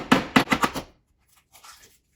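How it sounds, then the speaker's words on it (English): An egg is rapped sharply against a hard edge several times in quick succession, close and crisp, followed by a few faint soft cracking and shell sounds, with no talking. "we're just going to crack our first egg first"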